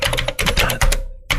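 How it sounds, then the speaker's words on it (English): Fast, forceful keystrokes hammer a computer keyboard in quick uneven bursts, close and loud, with a brief pause before a final clack. "you're more aggressive on the keyboard than I am."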